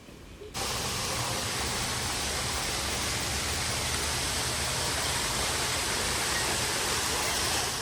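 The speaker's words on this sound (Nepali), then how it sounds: "त्यसपछि आउँछ यो झरना, कस्तो ब्युटिफुल ग्रिन स्पेस क्रिएट गरेको रहेछ भित्र" Indoor garden waterfall inside Kuala Lumpur airport, a steady, dense rush of falling water that swells in after a brief quieter moment and holds loud and unbroken throughout.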